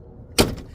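A door on an old Ford F350 truck swings shut with a single solid, close-up thud and a short rattling tail.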